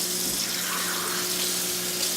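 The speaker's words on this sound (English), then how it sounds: "we're going to start with as hot as water as we can stand." Hot water runs steadily from a tap into a sink for hand washing, a continuous close hiss and splash with a faint tonal hum beneath and no talking.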